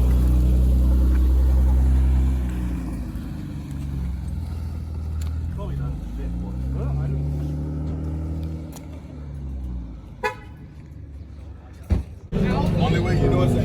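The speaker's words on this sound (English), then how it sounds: "They got another Beamer pulling up." A BMW pulls up at a car meet, its low engine rumble steady and close, then easing off, while people talk nearby.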